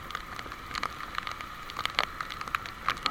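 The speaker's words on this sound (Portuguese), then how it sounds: "Tá chovendo demais." Heavy January rain in Maceió, Brazil, falls as a steady hiss with scattered sharp drops and spatters, moderately loud and continuous throughout, with no voices.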